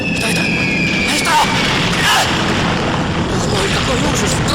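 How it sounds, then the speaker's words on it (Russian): Explosions rip through the Pearl Harbor attack on battleships as a dense, continuous rumble of booms, loud and chaotic, with a couple of sharper bursts rising out of the din and voices partly buried underneath. "Грохот взрывов обрывает звуки музыки"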